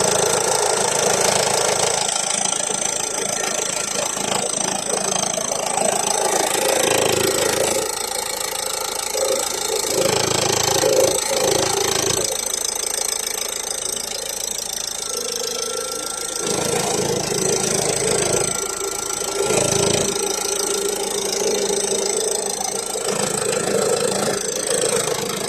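A Citroen Berlingo Enterprise van's engine idling with a rattly, knocking clatter, steady and close throughout with rough, uneven texture and a few louder bursts.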